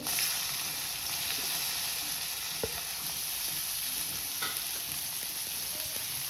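Onion frying in a pan over low gas right after curry leaves went into the oil, giving a steady, close hiss of sizzling with a few faint stirring clicks.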